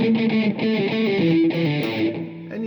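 A high-gain distorted electric guitar plays a power chord riff, with chords changing in a steady, chugging rhythm throughout, loud and close with no talking.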